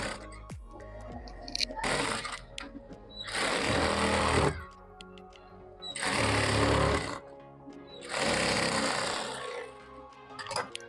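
A sewing machine stitches a strip onto a puff-sleeve blouse, running in four loud, rattling bursts of about two seconds each, separated by short quiet pauses, close and alone.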